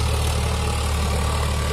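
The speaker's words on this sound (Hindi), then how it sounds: "फिलहाल चल रहा है ट्रैक्टर पे 7 फीट का रोटावेटर है" Eicher 557 four-wheel-drive tractor engine running with a seven-foot rotavator attached, a steady heavy low rumble with a constant throb and broadband mechanical noise, close and loud without any talk.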